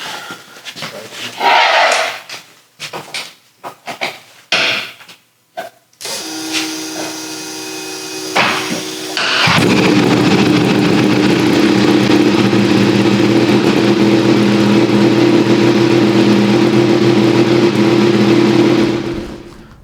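A few sharp clicks and rattles, then a Harley-Davidson VR1000 racing motorcycle engine catches and settles into a loud, steady roaring drone that holds close up to the end.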